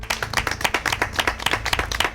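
Guests at a dinner clap for a chef after a meal of cooked meat, a brisk run of close, sharp handclaps from a small group, steady and uneven without any talk.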